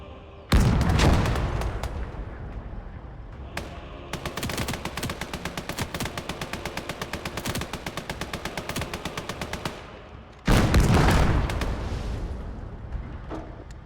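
Video game gunfire in a tank battle: two heavy booming blasts with long rumbling tails bracket a sustained rapid run of machine-gun fire, loud and close, with no talking.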